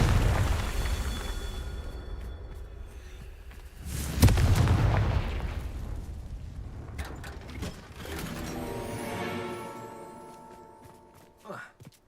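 Fire-spell explosions in the Hogwarts Legacy video game, a deep booming blast with rumbling debris, followed by mechanical clanks and whooshing magical effects that fade out.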